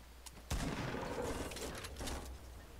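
SMG gunfire in the video game Fortnite: a loud sharp onset followed by a rapid rattling burst of shots that trails off over a couple of seconds, with no talking.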